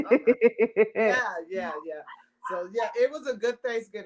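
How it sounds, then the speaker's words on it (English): A small dog lets out a quick run of sharp yips and barks at the start, then a person talks over a quieter background. "Excuse the dog in the background because the little noise she hears, she gonna bark"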